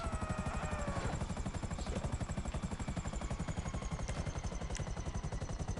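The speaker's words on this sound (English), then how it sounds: "I don't like the risk to the chopper here." Helicopter in the video game GTA Online, its rotor producing a steady, fast, even thumping pulse under a high engine whine, loud and continuous throughout with no talking.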